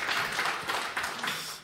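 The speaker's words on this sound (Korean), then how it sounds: "아, 박수가 절로 나오시죠?" A church audience breaks into brief applause, a soft, fairly distant wash of many hands clapping for under two seconds.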